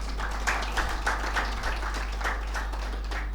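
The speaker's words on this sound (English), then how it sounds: "let us clap them double louder" Audience clapping at a business CEO forum master class, heard as a steady, moderate wash of applause with scattered individual claps over a low constant hum.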